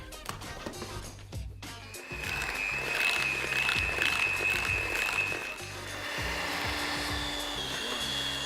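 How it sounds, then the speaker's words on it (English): An electric mixer whips chocolate chip cookie dough after a whole egg and an egg yolk go in, a steady motor whine with a high tone running through the middle, near and continuous. "So we've been whipping here for about 5 minutes"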